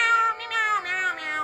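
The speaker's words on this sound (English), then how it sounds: "I actually start meowing repeatedly in front of these humans" A cartoon cat meows in the video game Little Kitty Big City, one drawn-out, high, harmonic-rich meow filling the moment, close and clear with no talk over it.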